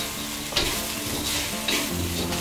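Fried pork with spring onion and jalapeno being stirred in a pan of sizzling oil, a steady hiss broken by a couple of louder scraping stirs, close and continuous with no talk.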